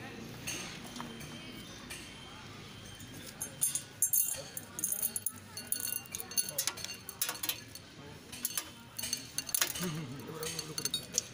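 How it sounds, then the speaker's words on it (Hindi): A spoon scooping a bituminous concrete mix sample into a bowl for a road-construction extraction test, giving repeated close metallic scrapes and clinks as people talk around it. "चम्मच से डालना।"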